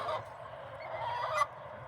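Backyard chickens around an Indiana coop make soft, continuous clucking and murmuring calls, faint and low in level, with one slightly sharper call near the end.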